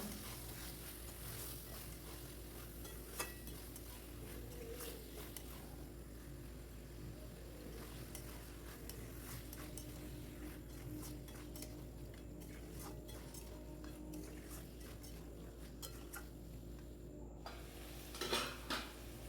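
Meat being stirred with a cooked-down spice paste in a pan for a Bengali curry, a steady sizzle with scraping and clinking of a spoon against the pan throughout, a louder scrape near the end, with no talking.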